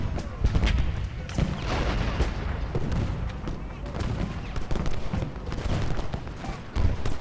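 Repeated musket volleys and booming artillery fire in the Civil War battle game Ultimate General Gettysburg at Gettysburg, crackling and thudding irregularly throughout in dense clusters, with a voice speaking now and then among the shots.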